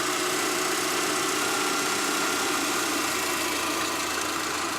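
A car engine idles steadily with a low, even rumble and faint vibration, no other sounds.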